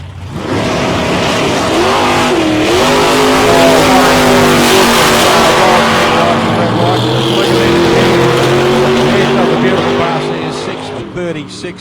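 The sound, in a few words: drag race cars, Gemini against 500 cubic inch Chevrolet Camaro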